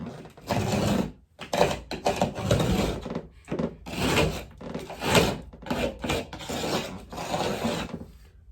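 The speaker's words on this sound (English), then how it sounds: "I just run the tip of the old screwdriver along the join there" An old screwdriver tip scrapes in repeated rasping strokes along a cracked joint in a bedroom being redecorated, each pass close and gritty with brief pauses between, and no voices.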